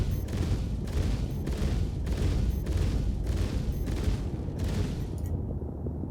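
Rapid gunfire empties a magazine in a video game ballistics test, about eight evenly spaced loud shots in a steady rhythm, then an abrupt stop into near silence.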